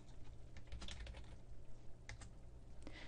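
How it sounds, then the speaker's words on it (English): Typing on a computer keyboard while entering a name into an Office 365 web calendar attendee box: a steady run of quiet, close clicks and key taps over faint low hum, with no talking. "I'll type my colleague's name in the Add a Name box."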